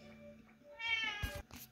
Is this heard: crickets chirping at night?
no